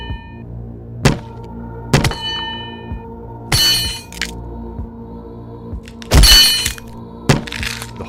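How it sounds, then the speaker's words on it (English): Several sharp, loud metallic impacts land at irregular intervals, each a hard crack with a ringing clang tail, separated by quiet gaps, standing in for iron striking a girl's head. "a sickening thud, the sound of iron striking the girl's head"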